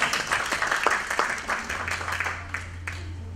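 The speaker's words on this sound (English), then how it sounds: "Let's give her another round of applause." Applause from a seminar audience at a roundtable discussion on single-use plastics, a moderate patter of many hands clapping that tapers off, heard indoors with a low hum entering partway.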